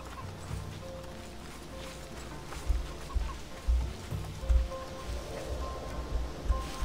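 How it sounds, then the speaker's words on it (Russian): A rooster in the video game Assassin's Creed Odyssey clucks repeatedly in short, irregular bursts over a low ambient outdoor bed, moderately near and fairly quiet. "Блин, петух!"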